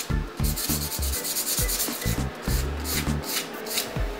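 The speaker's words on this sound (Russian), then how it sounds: "На следующий день шлифуем просохшую шпаклевку с помощью мелкой" Fine sandpaper rubbing over dried gypsum putty on a rose bas-relief, a steady run of rhythmic, close scratchy strokes repeating back and forth with no talk.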